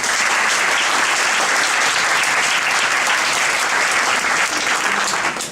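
A lecture audience claps loudly for a professor after a talk on black hole imaging and graphene physics, a dense, even wash of applause that holds steady before tapering at the very end.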